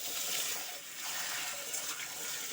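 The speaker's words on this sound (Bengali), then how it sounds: "মুগটা ভালো করে ধুতে হবে" Whole mung beans being washed under a running tap, a steady, close gush of water with a soft splashing texture and no speech.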